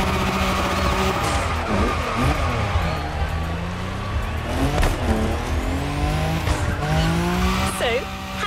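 A modded BMW drives hard in The Crew Motorfest, engine revving and whining through gear changes as tires squeal and skid, with a voice talking over the loud, close driving.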